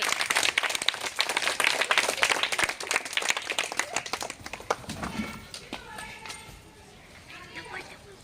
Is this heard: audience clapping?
yes